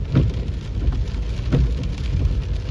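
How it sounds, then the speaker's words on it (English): Heavy storm rain drums steadily on a car at night while driving along the coast, with windscreen wipers sweeping in a regular rhythm of soft thumps about every 1.4 seconds, loud and close with no talk. "I've got the wipers going as well because the rain is coming down"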